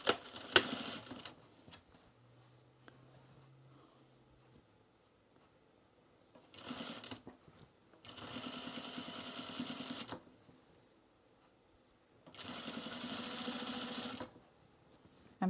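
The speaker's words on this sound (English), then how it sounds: "I'm just going to stitch it right in the seam of the binding." A sewing machine stitches along the seam of a binding on pajamas or sport shorts in several loud, rapid whirring bursts separated by quiet pauses.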